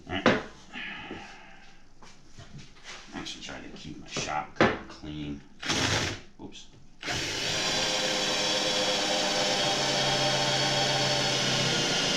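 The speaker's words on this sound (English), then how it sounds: "I want to show why twist bits suck for drilling holes" A small cordless drill drives a twist bit into wood, whining steadily and loudly for the last five seconds, after a stretch of close talk and clattering handling sounds.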